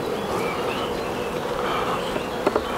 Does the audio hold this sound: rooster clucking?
no